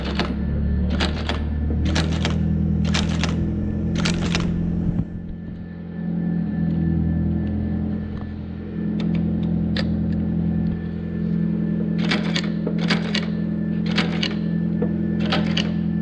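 A Bostitch Bronco 7AEW saddle stitcher, powered by 115 volts AC and run from a foot pedal, hums steadily under a loud motor drone. It fires in rapid bursts of sharp stitching clacks, first a run of five, then a quieter stretch, then another run of four.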